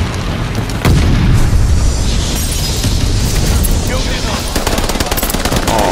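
Sten submachine gun firing in a Call of Duty Vanguard match, loud and close, with rapid bursts and booming explosions over a dense battlefield din.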